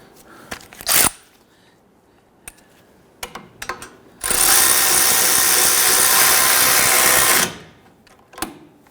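An impact tool runs a wheel hub bolt onto a 2011-2023 Dodge Charger front suspension in one loud, sustained burst of about three seconds, with a short earlier buzz and scattered clanks of tools and parts around it.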